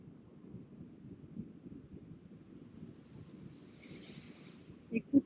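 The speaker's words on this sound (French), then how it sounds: "Écoute le vent, il chante." Wind blows outdoors as a soft, low, continuous rumble against the microphone. It stays faint throughout, with a couple of brief thumps near the end.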